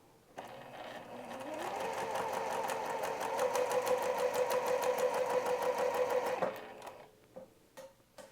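Sewing machine stitching quilt pieces along a quarter-inch seam, starting slowly then settling into a fast, even needle rattle for several seconds before stopping abruptly, close and clear in a quiet room.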